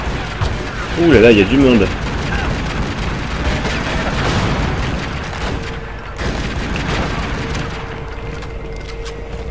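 Tomb Raider Legend gameplay has an assault rifle and explosions booming in muffled, rumbling bursts, mostly early on, with a player talking over the game noise.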